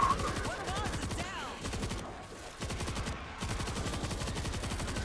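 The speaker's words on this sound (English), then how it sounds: "I have a machine gun." Rapid machine-gun fire from the World War Z video game rattles in dense bursts, broken by two short pauses, loud and close amid other game noise.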